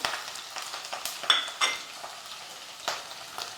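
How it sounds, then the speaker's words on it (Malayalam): Shallots, garlic and ginger sauté in a pan for a spicy fish curry, with a quiet sizzle broken by repeated sharp scraping strokes of a spatula, close up. "ചുവന്നുള്ളിയും വെളുത്തുള്ളിയും ഇഞ്ചിയും ചേർത്തു അതൊന്ന് മൂത്ത് വരുമ്പം"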